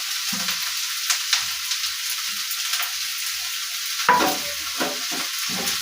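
Carrots and cabbage stir-fried together in a pan, a steady broadband sizzle with scattered stirring scrapes and a louder clatter of utensil against pan near the end, no voices.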